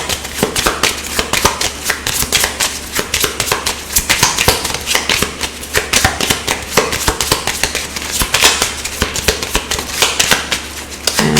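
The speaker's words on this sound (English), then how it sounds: "Shuffle my cards hard" Tarot cards are shuffled hard and fast, a close, loud run of crisp riffling bursts and slaps that repeats in quick, uneven waves for several seconds, with no voice.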